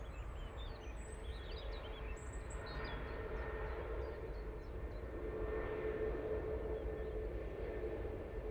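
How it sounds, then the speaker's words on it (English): An EasyJet airliner lands at Manchester Airport, a steady broadband jet roar that swells slightly toward the end, heard at a distance with no talk over it. "Smoky landing there from the EasyJet."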